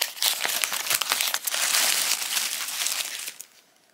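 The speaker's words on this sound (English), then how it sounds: "I am opening up my Christmas gift." Christmas gift wrapping paper crinkles and tears close by in a dense flurry of crackling rustles for several seconds, then stops abruptly.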